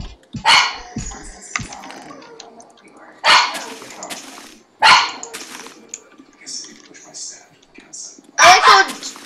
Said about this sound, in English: I like how Lucky is just barking away.